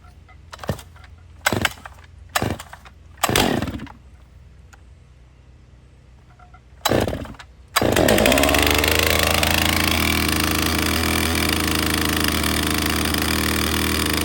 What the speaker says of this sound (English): That's one thing that I've noticed about these steel chainsaws.